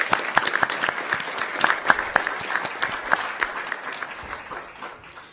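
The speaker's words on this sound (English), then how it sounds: "So please give them a huge round of applause as well." A small group at a community housing meeting claps, with irregular individual hand claps that gradually thin out and fade.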